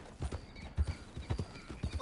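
Horse hooves clip-clop in a steady rhythmic trot in the Red Dead video game, up close and fairly loud over a soft background.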